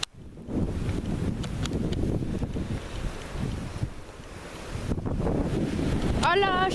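Strong wind in Charente gusting hard against the microphone, a loud continuous roar and buffeting with no pauses, and a brief squeaky tonal sound at the end.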